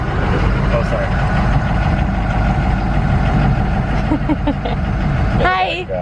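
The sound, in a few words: truck engine idling noisily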